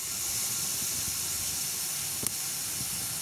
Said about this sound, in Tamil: தண்ணி நல்லா கொதிச்சிட்டேனம்மா நல்லா கொதிக்கணும்